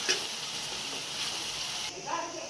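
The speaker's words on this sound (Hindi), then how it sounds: "इन सारी चीज़ों को कर देंगे और 2 से 3 मिनट तक इसको हम सौते करेंगे" Vegetables and tomatoes sauté in a hot pan for Chinese fried rice, giving a steady, close sizzle and crackle that fills the whole moment with no break.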